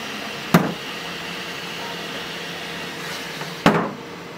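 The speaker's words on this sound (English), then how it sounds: "It's also not the quietest printer in the world when it's completely open" A Flashforge Adventurer 5M Pro 3D printer runs with its enclosure closed, giving a steady muffled whir punctuated by two sharp clunks a few seconds apart.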